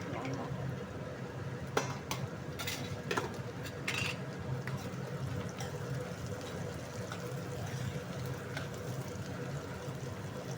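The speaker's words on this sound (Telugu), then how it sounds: "వేసేసుకొని ఇలా కదుపుతున్నాం ఫ్రెండ్స్." A spoon stirs chana dal with curry leaves in a pan of hot oil, a steady soft sizzle with scattered light scrapes and clinks of utensil against metal throughout.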